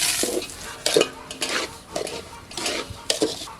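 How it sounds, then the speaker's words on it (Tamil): Rava roasting in hot ghee in a heated pan, stirred with a utensil during vegetable biryani preparation, gives repeated scraping strokes over a soft continuous sizzle, close and moderately loud, with no talk. "நெய் சூடாயிட்டு ரவா வதக்கி எடுத்துக்கலாம்"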